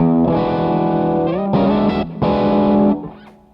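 Electric guitar played through a REVV D20 amp with heavy distortion and extreme EQ settings, a few sustained buzzy chords ringing loudly, then cutting off.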